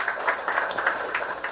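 Applause at a funeral service, a steady wash of many hands clapping together for a moment, fairly close and even, with small bursts rising and falling.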